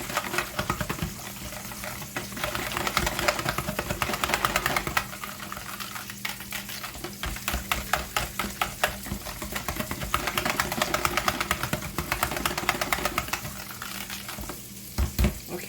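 A pork chop casserole mixture stirred in a bowl, giving a steady run of wet, rhythmic scraping and squishing strokes up close. The sound carries on for over fifteen seconds with no talking.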